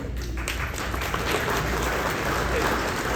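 An audience at a team presentation on stage breaks into loud, continuous applause, a thick, close wall of clapping hands that runs unbroken, with voices blended into it.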